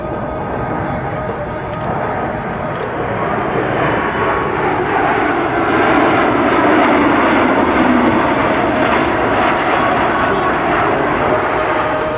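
A USAF C-17 Globemaster cargo aircraft flies past during an airshow demo, its engines a loud, broad, sustained roar that swells and holds, with faint commentary underneath.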